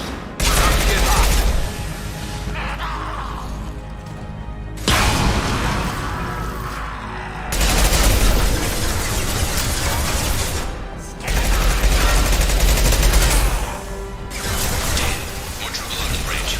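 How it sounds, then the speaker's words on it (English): Heavy, sustained gunfire in the Mass Effect 2 video game, loud bursts rolling in waves with booming impacts and brief lulls between volleys, alongside game music and sound effects. "Taking heavy fire."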